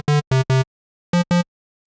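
ARP 2600 V patch with one square-wave oscillator through filter and amplifier: five short buzzy hollow synth notes, three in quick succession, a pause, then two more, dry and fairly loud.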